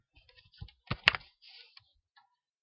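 Keystrokes on a computer keyboard while entering VBA code in Excel, a sparse run of separate clicks with a denser cluster of taps near the middle, close and fairly quiet with no talking.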